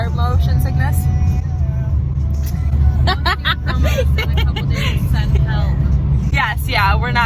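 Inside a car on the road, the steady low rumble of the engine and tyres fills the cabin while people chat and laugh over it.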